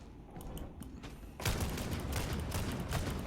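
A gun in the Warhammer 40,000: Darktide video game firing continuously to empty its ammo, a rapid steady barrage that starts loud after quieter mechanical clicks.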